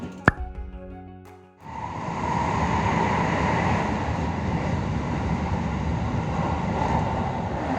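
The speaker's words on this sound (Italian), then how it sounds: "Da lì abbiamo preso il treno." A steady, broad rumble of a moving train in Japan, departing Kyoto, fills the clip after a brief quieter opening, with a continuous low roar and rushing noise.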